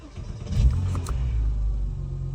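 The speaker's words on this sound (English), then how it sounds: "you can hear the starter motor able to turn a lot quicker with the greater cranking amps that this battery has" A Porsche 987 engine cranking and starting on a new Exide premium EA770 battery, a close, brief starter whirr that quickly rises into a steady low idle rumble.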